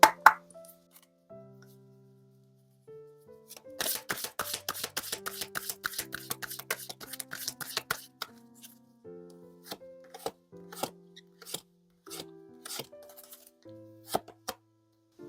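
Tarot cards being shuffled and drawn from a deck: a quick flurry of crisp riffling clicks and snaps, followed by a few sparser card flicks, all close up over soft background music.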